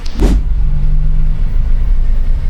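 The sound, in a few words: traffic noise heard from inside a Suzuki minivan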